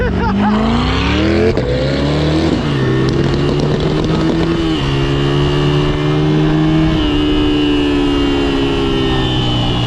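A car engine drones loudly and steadily, its pitch rising and falling as it revs through the gears. Faint voices are buried beneath it.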